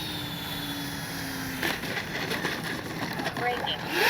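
An E-flite A320 Neo RC jet comes in to land with gear down, its electric ducted-fan whine steady and moderately near, shifting partway through as it touches down, with a voice speaking over it.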